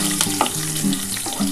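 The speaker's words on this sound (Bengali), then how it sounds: "একটু ভালো করে এগুলো একটু ভেজে নিতে হবে।" Garlic fries in a pan with dry red chillies and black cumin, ahead of jute greens going in. A steady close sizzle runs throughout, with a few stirring scrapes and clinks.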